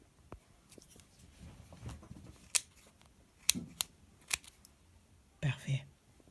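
Clippers snip a pet's claw in a grooming session, a few small crisp clicks close to the microphone amid quiet handling noise, with soft speech nearby.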